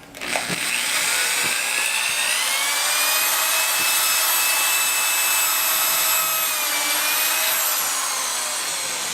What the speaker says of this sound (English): I can go back and drill my pilot hole